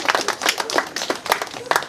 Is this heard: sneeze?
no